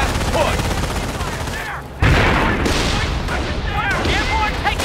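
Bursts of rifle and machine-gun fire in the World War II strategy game Company of Heroes: Tales of Valor, dense and continuous, with a sharper volley breaking in midway, mixed with voices calling out over the battle.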